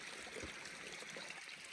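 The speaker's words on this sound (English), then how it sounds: "Here's a little creek." A small creek in a fire-scarred forest feeding a mountain lake, a faint steady trickle and babble of flowing water, quiet and continuous with no talking.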